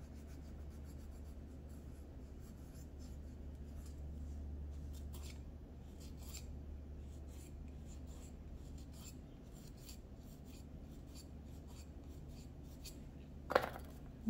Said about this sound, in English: Use my nail file for this part right here